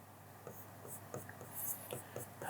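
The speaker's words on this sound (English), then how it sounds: "We will write the same point here." Marker or chalk writing on a board during a physics lesson on spring force, heard as faint, quick scratchy strokes in short bursts at close range, quiet and alone.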